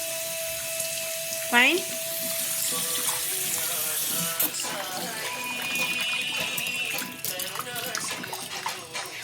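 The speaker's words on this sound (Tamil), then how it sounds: "முட்டை தண்ணியில் கழுவு. கழுவு முட்டையை கழுவு." Tap water running into a sink while eggs are washed in a bowl for boiling, a steady splashing stream under Tamil conversation, with kitchen clinks and brief clatter.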